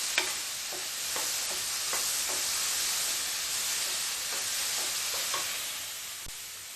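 Okra and tomatoes sauté in a pan with a steady, fairly soft hiss of frying, punctuated by light stirring scrapes and taps; no voices.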